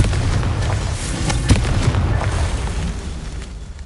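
Booming blast of the Confringo fire spell in Hogwarts Legacy, a loud explosive burst with a sharp peak that rumbles and fades, no voices.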